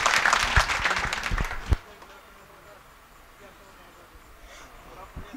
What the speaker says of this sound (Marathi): जोरात टाळी वाजवा सर्वांनी